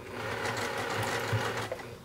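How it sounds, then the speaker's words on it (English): Sewing machine stitching down the side of a vinyl zippered project bag, a steady, close, continuous rapid mechanical whir with no talk over it. "go to the sewing machine and just stitch this side down"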